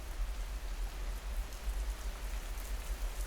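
Soft rain pattering steadily under a canopy of beech trees on a Cotswolds wold, a dense, even hiss of drops with a low rumble beneath, no voices.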